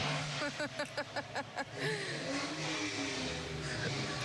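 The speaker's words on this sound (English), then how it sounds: "Revving the engines here, I can smell the exhaust." Car engines revving at the North Dakota State Fair parade, a run of short rhythmic revs early on followed by a sustained engine rumble, mid-distance amid street ambience.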